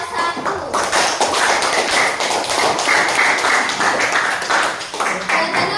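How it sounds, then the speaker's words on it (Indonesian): A classroom group of students applauds for group 1, producing a dense, loud burst of rapid hand claps that lasts several seconds, with voices mixed in. "Beri tepuk tangan untuk kelompok 1"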